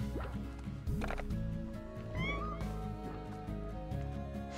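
A cat-like meow from a slime in the Slime Rancher video game, a short rising and falling cry heard twice over steady background game music, moderately loud.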